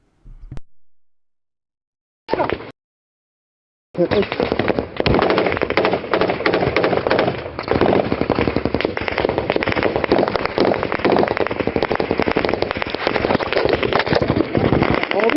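Gunfire from clashes between PKK fighters and Turkish forces in northern Iraq: a couple of brief bursts, a pause, then dense, loud, continuous rapid shots crackling on without a break.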